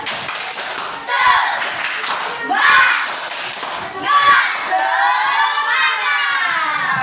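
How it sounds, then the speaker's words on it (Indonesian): Children in a classroom perform the tepuk semangat rhythmic clapping chant, with bursts of patterned claps alongside shouted, sung chanting voices. "Tepuk semangat"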